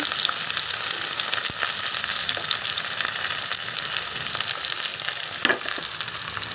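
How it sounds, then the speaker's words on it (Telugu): Chopped onions and green chillies sizzle in hot oil with a dense, bright crackle that holds steady throughout, close and loud, with a couple of sharp spits near the end and no speech. "ఇప్పుడు నూనె మరిగిందండి ఉల్లిపాయలు ఉల్లిపాయలండి పచ్చిమిరపకాయలు"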